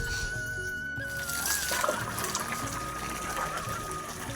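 Tap water running steadily into a basin while someone washes their face at home, a continuous close splashing flow with a faint tonal hum under it.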